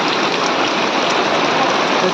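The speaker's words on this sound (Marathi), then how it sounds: "पावसाला तर कोण धरू शकत नाही पडायचा तर पाऊस पडणारच" Steady, dense rain pours in a Konkan village during a Ganpati celebration, an even close-up hiss of falling water with no breaks.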